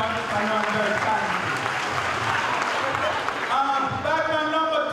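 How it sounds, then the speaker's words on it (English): Loud audience applause at the close of a Jamaican stage play, steady clapping from a crowd with voices and cheering mixed in, continuing for several seconds. "Loud round of applause for everybody."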